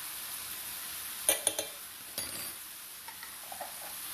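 Garlic stirred into a hot pan gives a quiet steady sizzle, with a few sharp scrapes and taps of a utensil against the pan, near and faint.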